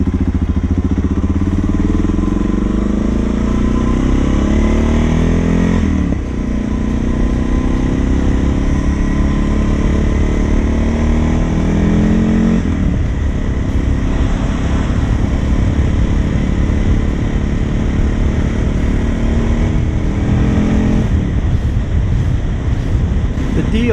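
A Suzuki DR motorcycle with a ProCycle SS Pro-Flow headpipe lopes along in fourth gear, a loud, close, throbbing exhaust drone with a few rising sweeps as the revs change.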